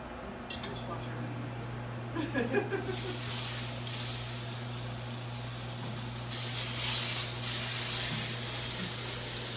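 Beef tenderloin steaks sear in canola oil, opening with a few light clinks, then a hissing sizzle that builds and grows louder partway through, while someone talks over it.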